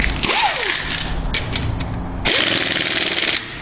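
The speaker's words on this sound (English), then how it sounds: "on an air impact and tighten each one of these bolts to approximately 50 foot-pounds" Air impact wrench tightens bolts to about 50 foot-pounds during an M16 assembly, two loud rapid hammering bursts with rising motor whine, close by and without talking.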